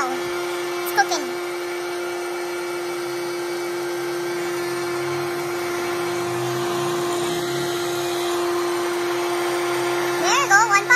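A Betty Crocker hot air popcorn maker runs with a steady, even motor whir and fan roar that holds throughout, with a clear tonal hum beneath; a person speaks briefly over it near the end.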